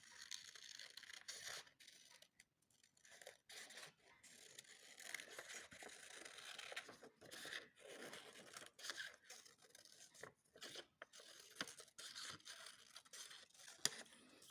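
Scissors cut a paper circle in a series of quiet, close, irregular snips and rustles as the paper is turned in the hand, with short pauses between cuts.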